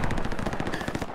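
Machine gun fire in the World War II shooter game Hell Let Loose, a rapid, rattling burst of closely spaced shots, loud and unbroken, with no talking.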